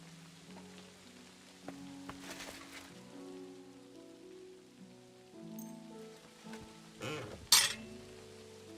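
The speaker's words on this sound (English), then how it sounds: "Like the calming sound of the rain." Rain falls steadily in the medieval world of Kingdom Come: Deliverance 2, a soft continuous patter under low tonal music, with a few brief clinks and a louder splash-like burst near the end.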